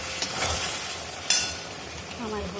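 Green chillies dropped into vegetables frying in a pan, a steady sizzle with stirring scrapes and a sharp clatter midway, close and fairly quiet with no talking.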